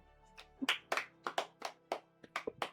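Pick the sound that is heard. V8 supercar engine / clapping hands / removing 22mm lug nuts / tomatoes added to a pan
clapping hands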